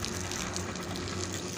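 Water gushes steadily from a repaired donkey pump, a loud, continuous rushing flow with a low mechanical hum beneath it and no talk.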